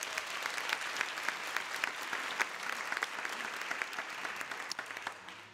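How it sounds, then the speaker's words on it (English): Sustained applause from a large audience at a Governors State University convocation in 2018, dense steady clapping throughout with a few sharper claps standing out, fading slightly at the very end. "let's give her another round of applause"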